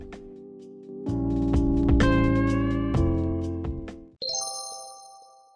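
A bright electronic chime rings out in a rising melodic pattern, sustained tones layering, then a short higher tone follows after a brief break.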